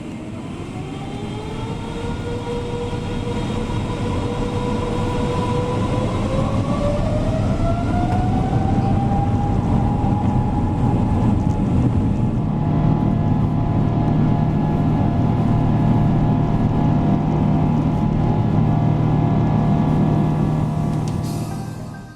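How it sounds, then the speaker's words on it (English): Boeing 777-300ER jet engines spooling up for takeoff, a loud steady roar with rising whine tones that climb in pitch and then hold, sustained throughout from inside the cabin. "At least the engine sounded good."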